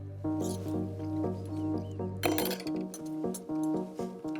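Glasses clink together in a toast after a sour cherry crumble with stone fruit compote and ice cream, a run of bright, close taps and chimes ringing out in quick succession with a small burst of louder clinks midway.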